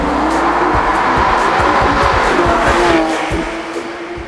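A Porsche GT3 RS drives hard, its engine a loud sustained roar with rapid pulsing texture, easing slightly toward the end with no talk over it.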